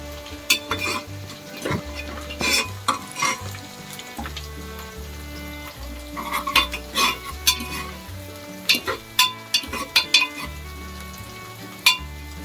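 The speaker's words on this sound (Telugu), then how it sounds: "కొంచెం అల్లం పేస్ట్ వేగనిద్దాం పచ్చివాసన పోయే వరకు." Ginger paste and mutton sizzle and fry in a pan, with a steady crackle under repeated spoon scrapes and clinks against the pan in bursts, close and fairly loud, with no talk.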